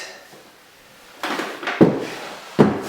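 A kitchen cabinet drawer is lifted and pulled off its drawer runners, giving a soft slide followed by two sharp wooden clunks, close and fairly loud.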